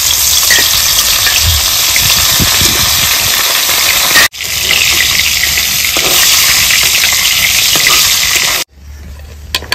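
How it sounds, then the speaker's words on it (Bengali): Tilapia frying in mustard oil in a wok gives a loud, steady, dense sizzle that runs almost without a break for several seconds, with two brief cuts where it drops out. "মাখা করার জন্য এই যে মাছ ভেজে নেব।"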